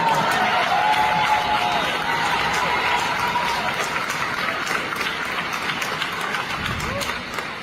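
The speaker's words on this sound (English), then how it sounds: "You hear all of the women in the audience clapping" Women in an audience clap together in a dense, steady wash of applause that fades slowly, with a voice talking over part of it.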